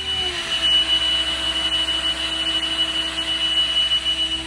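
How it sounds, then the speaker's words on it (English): Steady mechanical drone of a telehandler engine revved to set speed driving a rotating tree saw's rotors, with a sustained high-pitched whine over a low rumble throughout. "you can rev it up to our set speed, and that will then get the rotors going"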